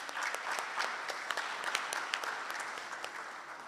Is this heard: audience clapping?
yes